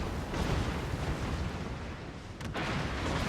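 Heavy booming naval combat in World of Warships as the Scharnhorst's torpedoes strike, a dense, sustained roar of explosions and rumbling blasts with a brief dip before the barrage swells again.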